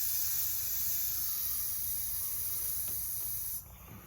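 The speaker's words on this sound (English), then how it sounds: "you can hear it all come out" Air hisses steadily out of a deflating bicycle tyre valve, a close, continuous airy rush that cuts off abruptly near the end.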